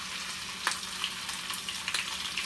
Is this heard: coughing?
no